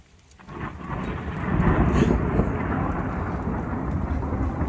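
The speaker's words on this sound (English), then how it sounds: "jumped in fear at the thunder a few seconds later" Thunder from a lightning strike swells into a loud, rolling rumble that builds over a couple of seconds and keeps grumbling, with rain noise mixed in.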